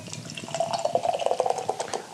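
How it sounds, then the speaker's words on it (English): Beer poured from a can into a glass makes a steady close splashing and gurgling fill, bubbling and fizzing throughout. "It's got a nice pour on it."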